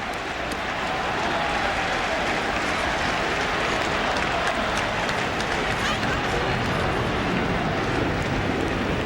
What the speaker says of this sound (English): We want Rocker chant now from this crowd